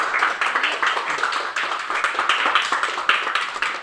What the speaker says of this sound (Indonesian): Aplaus untuk Aldo.